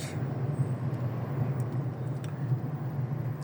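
Heavy road traffic jam, a steady low rumble of idling and slowly moving vehicles with a continuous engine drone and faint distant clatter, no talk.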